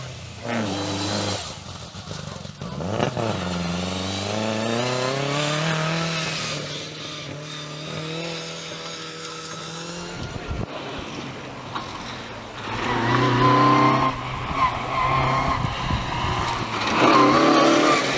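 A Lotus Cortina rally car tears through a stage at the Mid Wales Historic Rally 2005, its engine rising and falling through gear changes as it approaches loud and close, then recedes into wind noise before another burst of revs.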